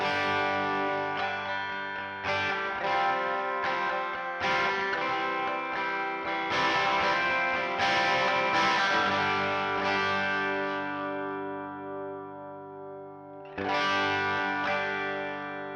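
Electric guitar chords strummed with light overdrive, a series of ringing strums followed by a sustained decay and one final strum.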